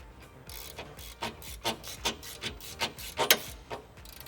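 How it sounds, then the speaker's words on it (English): A 17 mm ratcheting wrench turning a steering rack bolt on a Nissan 350Z during a solid rack bushing install, about a dozen quick rasping clicks in an uneven rhythm, close up and alone. "so 17 mil ratcheting wrench"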